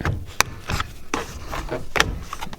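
A truck's center trim section being pried off with a small flathead screwdriver, giving a few short scraping, rubbing clicks and a sharp snap of plastic, close up with no talking.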